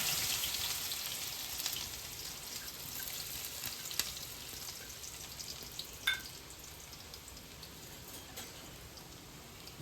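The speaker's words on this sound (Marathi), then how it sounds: "2 चमच तेल टाकले. तेल गरम झालं आहे आता. तेल त्यामध्ये आपण कांदा टाकला." Onion fries in two spoons of hot oil with a steady, close, crackling hiss and scattered small pops, a continuous sizzle with a few sharper spits over about ten seconds.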